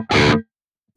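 Electric guitar through the Archetype: Gojira X amp with presence set at noon: a single short, heavily distorted chord stab, bright and loud, cut off abruptly into silence.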